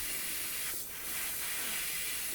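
Short, steady hiss of an aerosol spray of Tamiya flat white paint onto a 1/72 scale Harrier model kit, soft and close, with a slight rise in the middle.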